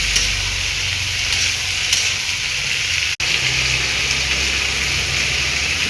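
Mustard seeds, chillies and other spices sizzle in hot oil in a pan, a loud steady hissing crackle up close that barely changes apart from one brief dropout midway.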